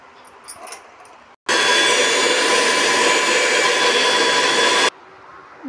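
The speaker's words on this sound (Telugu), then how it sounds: "బీట్రూట్ ఇలా సన్నగా తరిగేసుకొని మిక్సీ జార్లోకి వేసుకొని మిక్స్ చేసుకోవాలి ఫ్రెండ్స్" Mixer grinder whirring loudly as it blends finely chopped beetroot in the jar, a steady roar that starts abruptly, holds for about three and a half seconds and cuts off sharply.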